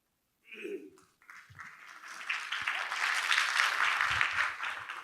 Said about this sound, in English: I don't know if the clapping is for you or for me